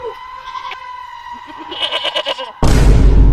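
A goat bleats in a village setting, several wavering, nasal cries heard near and clear, followed by a sudden burst of loud broadband noise at the end.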